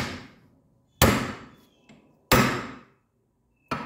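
Three hard metallic hammer blows on a steel slug, knocking out a ball joint on a 1985 Mercedes 300SD suspension, each a loud close clang with a short ringing decay, spaced about a second apart.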